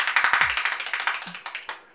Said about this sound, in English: a mad little merchandise thing of just a hand clapper